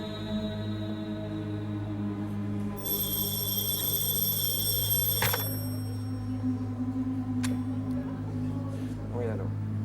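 A telephone rings in a TV game-show studio, a single bright burst of a few seconds rising over a steady background hum of studio music and crowd.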